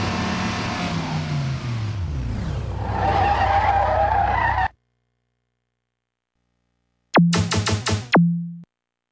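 In the DT Racer arcade video game, cars roar with revving engines and screeching tyre skids, then the sound cuts to complete silence before a short burst of synthetic game sound effects ends the sequence.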